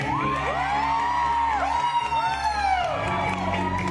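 Crowd at a live concert cheering and shouting loudly and continuously, with sustained wavering voices and whoops from a large audience, while music and singing carry on underneath.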